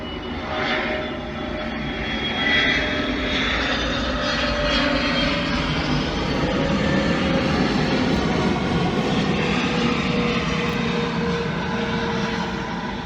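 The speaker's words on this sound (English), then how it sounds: "another plane" An airplane passes overhead with a steady, loud engine roar that swells slightly mid-pass and holds throughout, with no voices present.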